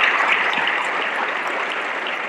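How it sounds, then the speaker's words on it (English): Audience applause for the master of ceremonies at a high school hall of fame awards show, a steady wash of clapping at even loudness for about two seconds. "give a round of applause and thank you for our Master of Ceremony"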